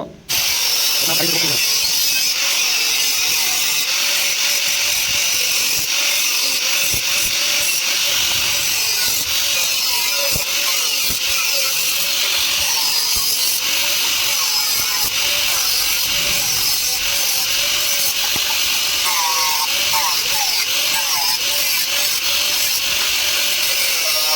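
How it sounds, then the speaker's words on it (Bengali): A cutting machine slices into an electrical switch board for concealed wiring work, giving a loud, steady grinding and hissing drone that runs without pause from start to finish. "এই যে মেশিন দিয়ে কাটিং করলাম, কত ফ্রেশ কাটিং।"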